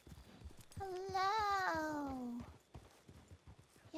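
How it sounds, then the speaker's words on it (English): A horse's hooves clip-clop in a steady, soft rhythm, faint and close, while a drawn-out whinnying or child-like voice rises over the middle of the sequence. "I bring a horse for you."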